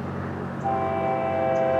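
A Florida East Coast Railway local freight train, FEC 920, passes with locomotive 422 leading 112 axles near Rouse Road, its steady horn blowing over a loud rumble of wheels and engine.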